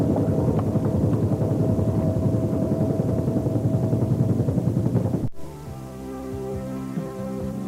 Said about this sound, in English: A maniac buzzing this mansion in a helicopter.